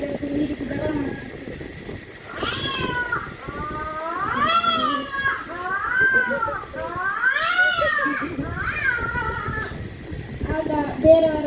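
A voice imitates two house cats fighting, producing a run of loud, wavering yowls and drawn-out meows that rise and fall, performed close up at a school talent competition.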